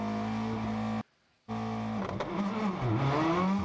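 An onboard rallycross race car at Mid-Ohio revs hard off the start, then drops out briefly before the engine climbs again through the gears, loud and close with no talk.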